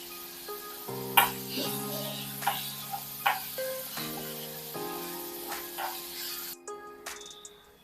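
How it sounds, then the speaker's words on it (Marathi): Onion fries in oil in a pan on a gas stove turned to full flame, giving a soft, steady sizzle with small crackles beneath a droning background tone. "कांदा चांगला सोनेरी रंग येईपर्यंत परतून घेऊया"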